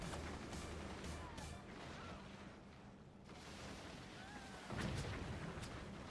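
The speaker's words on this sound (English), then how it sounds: "Ooh, there goes the cannons." Cannons on a base blown apart by artillery fire in the strategy game Forts, a string of loud booming blasts and crashing impacts over steady battle noise, with a heavier explosion near the end.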